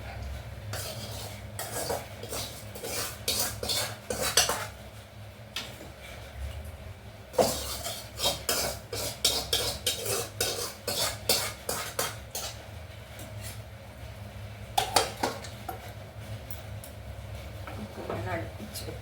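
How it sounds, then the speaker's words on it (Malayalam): Sautéed okra and onion scraped from a pan into a pressure cooker: repeated metallic clinks and scrapes of a spoon against cookware in irregular bursts, with pauses between, while someone talks over it. "വെണ്ടയ്ക്കയും സവാളയും വാട്ടിയത് നമുക്ക് കുക്കറിലേക്ക് ഇടാം."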